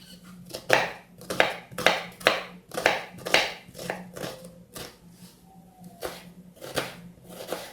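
Rapid, rhythmic knife chops through an onion on a cutting board, close and crisp, in quick bursts that slow and thin out toward the end.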